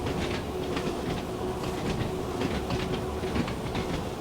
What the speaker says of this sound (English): This must have been the slowest an island line train has ever run